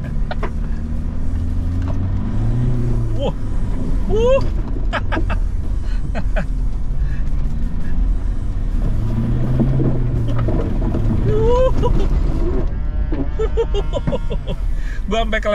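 A Toyota Hilux accelerating hard off-road, the engine note rising in pitch through gear changes over a constant loud rumble, with someone talking over it at times.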